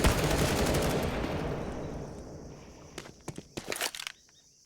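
Bursts of Galil rifle gunfire in a CS:GO match on the Ancient map at a DreamHack Open esports event, a dense rattling volley at first that fades, followed by several short sharp shots near the end.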